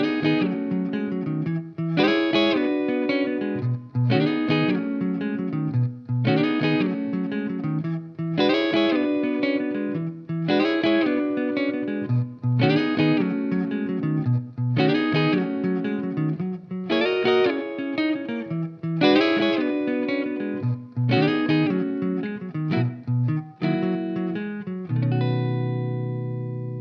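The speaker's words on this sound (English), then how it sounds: "I'll show you what it sounds like with the bass line part and some chords comping" An electric guitar plays a B.B. King-style blues in B, mixing a walking bass line with chord comping in a steady, repeating rhythmic groove that ends on a sustained chord, clear and close with no talking.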